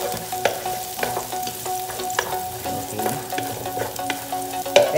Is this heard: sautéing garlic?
yes